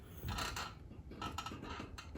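A 2015 Mazda 6, lowered half an inch on coilovers, settles down onto its suspension with creaking, clunking mechanical noises and a soft metallic rattle, close and moderately loud, with no talking.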